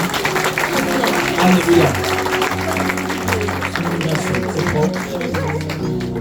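Church congregation at a Paris night worship service clapping and cheering in acclamation of Jesus, a dense, loud crowd roar mixed with music and a voice calling out.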